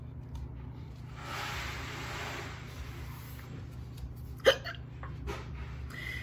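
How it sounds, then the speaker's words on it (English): A single sharp hiccup, voiced as a hippopotamus's hiccup during a children's picture-book read-aloud, stands out near the end over a low, steady background hum. "Somebody has hiccups."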